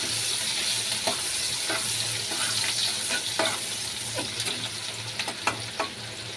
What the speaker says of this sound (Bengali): ওই তেলের মধ্যেই আমি পেঁয়াজ দিয়ে দেব। পেঁয়াজগুলো একটু ভেজে নিব নেড়ে চেড়ে।